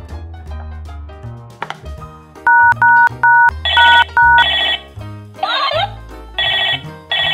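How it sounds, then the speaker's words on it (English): Electronic melody and repeated ringing beeps from a plastic Transformers toy phone, loud and close, with bursts of chirping tones and short tune phrases and no talking. "This is plastic toy phone."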